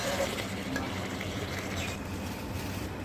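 Spices with potato and elephant foot yam stir-frying in a pan for a Bengali fish curry, a steady close sizzle with scraping stirs throughout.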